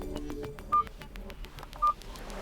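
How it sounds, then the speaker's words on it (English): Two short, clear keypad tones from a Nokia 230 phone, evenly spaced about a second apart, sitting over a faint background hum. "touch sounds are active and you can smoothly hear them"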